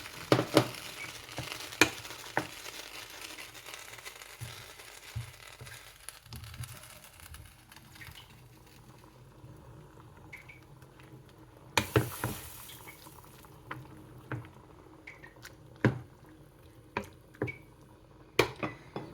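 Dal with leafy greens stirred in a pot, with soft wet squishes and sharp clicks and taps of the spoon against the pot, irregular and close, growing more frequent toward the end.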